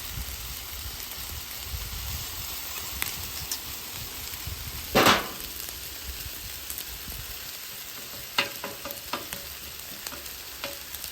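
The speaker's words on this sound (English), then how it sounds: "About a tablespoon of this, let it warm up on the griddle." About a tablespoon of oil warming on a griddle for chicken fried rice, giving a soft, low sizzle with a few sharp clicks and one brief louder burst midway; no one speaks.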